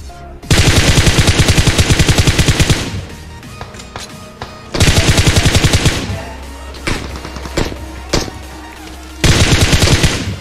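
Gunfire in a shooting video game: three long, loud bursts of rapid automatic fire, separated by scattered single shots and thuds.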